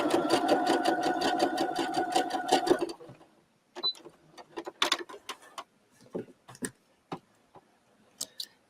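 A sewing machine fitted with a gathering foot runs in a fast, steady rhythmic chatter for about three seconds while gathering fabric, then stops, followed by scattered clicks and handling taps.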